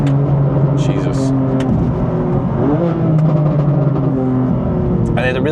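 A BMW M4 GTS accelerating hard, its engine revving and pulling with rising tones, loud and close from inside the car, with someone talking over it.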